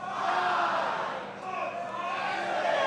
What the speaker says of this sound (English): the crowd's chanting with him